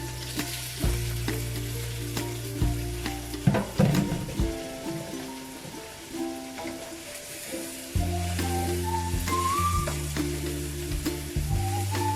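Squid frying with tomatoes in a pan, a loud continuous close sizzle with bursts of spatter and stirring, while steady tonal background music plays underneath.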